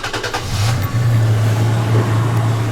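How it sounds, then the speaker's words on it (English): A 2017 Toyota Tacoma TRD Off-Road pickup truck engine cranks and catches after an oil change, then settles into a loud, steady idle with a deep hum, close by. "let's start the car and verify I have everything torqued down"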